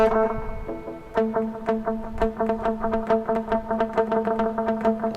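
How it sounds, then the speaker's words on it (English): Pizzicato plucked strings play a steady, quick run of notes, each echoed by a dotted-eighth delay that fills the gaps with repeating pulses. "some like nice pizzicato is what they call it in the classical terms"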